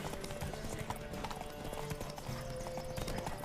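Horse hooves clip-clop in a quick rhythm during a race in The Witcher 3 video game, with a faint whinny and some voices mixed under the steady hoofbeats.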